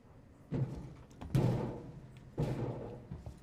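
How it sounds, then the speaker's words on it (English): Heavy, booming footsteps in the Alien: Isolation video game, three loud thudding steps at roughly one-second intervals, close and alone over a low background rumble. "Big footsteps."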